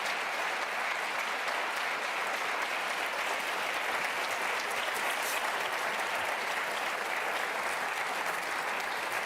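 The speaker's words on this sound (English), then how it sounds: "Let's give them applause, please." A debate audience applauds at the close of a state attorney general candidates' debate, a full, even wash of clapping from a crowd that holds steady throughout with no talk over it.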